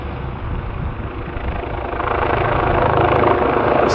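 A black helicopter hovers low overhead near Rhymney, its steady rotor thrum and broadband whine loud and continuous, swelling slightly louder over the four seconds with no talk.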